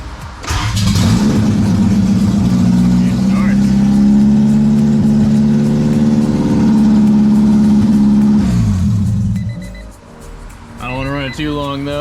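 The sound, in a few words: 1991 Honda CRX engine starting and revving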